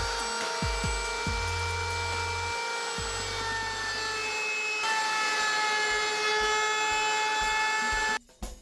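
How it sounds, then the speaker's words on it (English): Router on a router table fitted with a 1/4 inch round over bit, shaping the edge of a wooden electric guitar body, with a steady high whine and thumps as the wood is fed, ending in a short pause. "Next, I'll round over the top and bottom face with a 1/4 inch round over bit."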